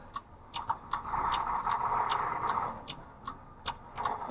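Turn signal of a truck hauling a CAT 972 wheel loader, ticking in a steady, quick rhythm inside the cab over a low engine hum and a mid-range drone that swells in the middle.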